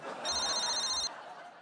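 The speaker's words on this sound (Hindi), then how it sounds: "अभी फोन आ गया आपका।" A telephone rings with a steady electronic tone for about a second in an indoor comedy scene, over faint background murmur.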